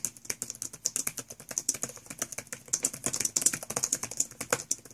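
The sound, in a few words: laptop keyboard typing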